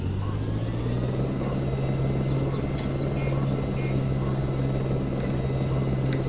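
A helicopter in the dinosaur park video game Jurassic Park: Operation Genesis hums and thrums steadily throughout, a constant low rotor drone with faint higher clicks and chirps over it.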